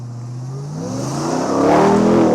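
A 2025 RAM TRX Final Edition pickup's engine revs up hard and loud from inside the cab, its deep, rising roar climbing steadily in pitch through the whole run, with no voices.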